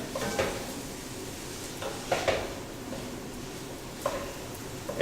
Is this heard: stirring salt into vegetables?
yes